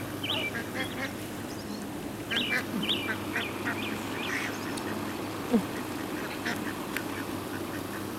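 Hungry ducks being fed let out repeated quacks in short clusters, moderately close, over a steady outdoor background hum.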